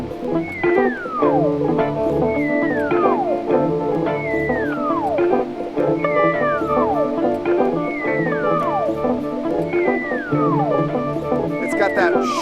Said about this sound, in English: It's got that shimmery tube vibrato.